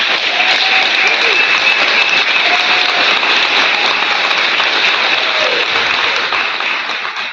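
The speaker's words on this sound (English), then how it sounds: "Please join me in a final round of applause for the 185th Vermont Correctional Academy." Sustained applause from a large audience at a correctional academy graduation ceremony fills the room, steady and loud throughout before tapering slightly at the end.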